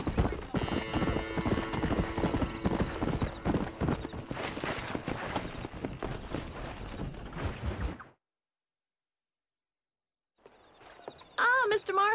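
Steady clip-clop of horse hooves trotting in the video game Red Dead Redemption, with busy ambient noise, then near silence, and a voice starts talking at the end.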